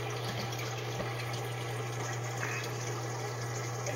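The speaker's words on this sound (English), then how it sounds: "You see the water flowing down," Water runs steadily through an aquaponics bell siphon, a continuous close rushing and trickling flow with a low steady hum beneath and no talk.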